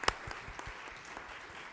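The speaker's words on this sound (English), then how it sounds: "Big applause to you first." Sparse applause for a speaker at a seminar on digitalization in higher education, a sharp clap followed by scattered, faint claps from a small audience in a room.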